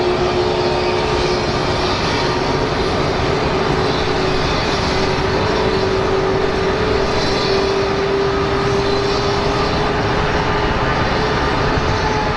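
An American Airlines airliner, flight 1870 from Ontario, arrives at Phoenix Sky Harbor airport, a loud, constant engine roar with a steady whining tone that holds throughout, heard alone without voices.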